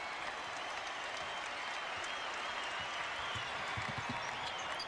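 A record basketball arena crowd of more than 18,000 at Marquette versus Cincinnati in Milwaukee keeps up a steady, distant roar of cheering and applause, with no clear break.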